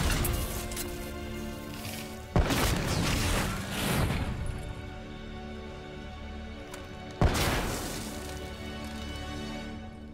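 Two heavy, booming gunshots or blasts crack out in the Black Ops 3 video game, several seconds apart, each followed by a long roaring decay over a steady low background.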